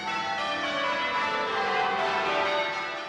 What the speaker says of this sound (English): At Westminster Abbey there was a special peal of the Abbey bells.